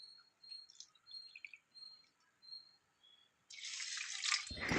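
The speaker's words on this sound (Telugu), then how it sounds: "4 కప్పులు నీళ్లు పోసుకోవాలి" Water is poured from a cup onto rice and moong dal for pongal, a sudden loud splashing gush starting near the end after a quiet stretch with faint cricket-like chirps.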